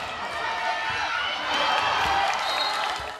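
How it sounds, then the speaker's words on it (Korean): Applause and cheering from a crowd at an elementary school children's volleyball club match, a steady wash of clapping that swells slightly midway, with voices mixed in. "깜찍함에 터져나오는 박수갈채"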